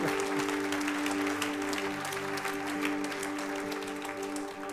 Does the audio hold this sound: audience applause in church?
yes